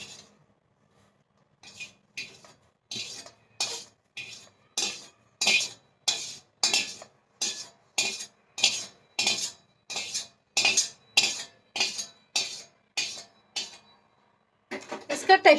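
Cooked mawa (milk solids) being scraped from a pan into a separate metal vessel: a long run of regular, evenly spaced metallic scrapes and clinks, close and fairly loud, with no talk over them.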